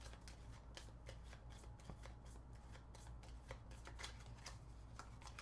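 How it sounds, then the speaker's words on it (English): A deck of cards for the Senjutsu board game is given a quick shuffle at a table, making soft, rapid riffling and snapping that repeats close and quiet for several seconds with no talking. "reset the deck is really just putting it back in here, doing a quick shuffle."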